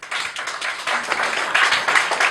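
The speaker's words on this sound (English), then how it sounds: "Give them a round of applause" A debate audience gives applause for the debaters, a dense, steady wash of many hands clapping at close range that swells louder toward the end, with no talk over it.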